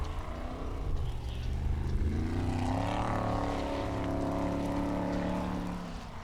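A Formula Offroad race car on an Icelandic course growls with a loud engine that rises in pitch as it revs, heard fairly near and continuous without talk.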